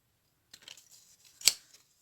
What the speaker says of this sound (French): C'est pour ça que je prends ceux-là, là, ces ciseaux-là, là, les grands.